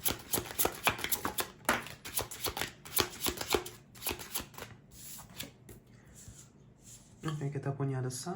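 A deck of tarot cards is shuffled by hand in quick, crisp riffling bursts that are close and fairly quiet, followed by a voice speaking near the end.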